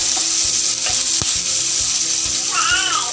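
Onion pieces and dried red chillies frying in oil for rasam, a loud steady hiss with faint stirring taps and a brief rhythmic mechanical whirr near the end.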